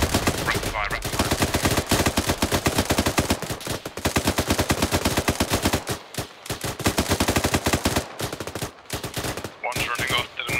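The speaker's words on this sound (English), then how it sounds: "Rapid fire, rapid fire." Rapid automatic gunfire in ArmA 3, long dense bursts of loud shots broken by brief pauses, continuous and close, with no talk over it.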